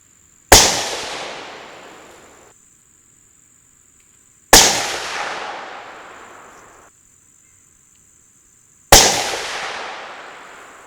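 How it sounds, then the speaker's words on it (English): Three loud rifle shots fired through a Vortex Diamondback Tactical 6-24x50 scope outdoors, evenly spaced about four seconds apart, each a sharp crack followed by a long rolling echo that fades into quiet. "I'm going to shoot a 3-shot group at the center dot before we go making any adjustments."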